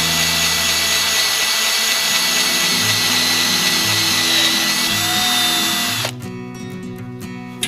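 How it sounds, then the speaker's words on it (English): A power drill whines loudly and steadily as it bores through aluminum paneling on a Baja Bug, then cuts off abruptly into quieter clicks and a final tap. "I just basically let the drill bit do its thing."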